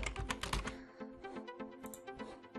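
A burst of rapid, clattering keystrokes on a computer keyboard, loud and close at first, then lighter, scattered key taps continuing without speech.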